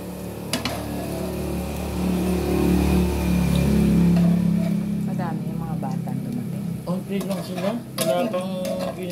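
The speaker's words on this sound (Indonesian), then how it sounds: "Tapos, diretso gisa na po ng bawang sibuyas." Garlic and onion sautéed in a home kitchen pan for menudo, with scraping and stirring of cookware and clinks of utensils over a low sizzle, while people talk nearby.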